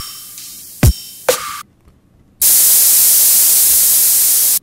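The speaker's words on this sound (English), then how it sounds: "it's white noise, and it's actually like the nicest white noise I've ever made" Synthesized white noise effect for electronic music production, preceded by two sharp transient hits and a short drop to silence, then a loud, steady broadband hiss sustained for about two seconds to the end.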